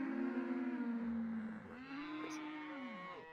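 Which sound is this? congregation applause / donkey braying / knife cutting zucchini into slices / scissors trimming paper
donkey braying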